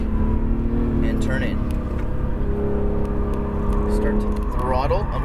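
An Acura NSX accelerates on a race track, its engine droning loudly and rising in pitch inside the cabin under steady talk from a driver.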